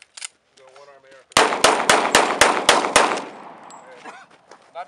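Rapid rifle gunfire from an AR fired one-handed during a mad minute at an outdoor range, about eight sharp, loud shots in quick succession. A voice comes before the volley and another follows it.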